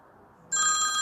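A telephone bursts into loud, steady ringing after half a second of quiet room tone, close by and with no voices.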